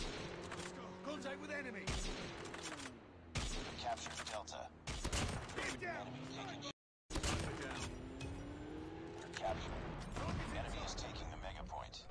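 Gunfire from the DLQ-33 sniper rifle in COD Mobile Ground War. Repeated sharp shots crack over continuous game noise and tonal background sound, with one brief total dropout partway through.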